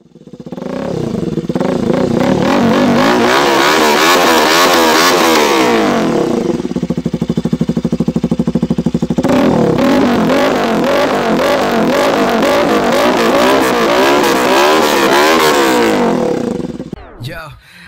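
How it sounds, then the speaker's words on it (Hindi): A Bajaj Pulsar RS 200 motorcycle fitted with a modified exhaust revs hard up close, its loud rasping drone rising and falling through repeated throttle blips, with a short dip in the middle before climbing again. "आज मैं इस वीडियो में आप लोगों को दिखाऊंगा best sounding Pulsar in India और top 10 exhaust for Pulsar RS200"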